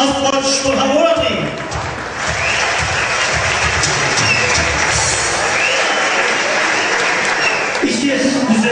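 Wedding guests applaud at a celebration, a dense, sustained clapping from a crowd with some cheering, and a host's voice is heard near the start.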